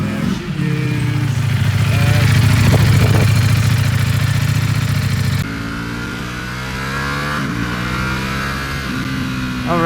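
A Ducati Panigale V4S motorcycle engine revs hard nearby with a loud, rising roar, then shifts and continues accelerating away in a smooth, harmonic howl.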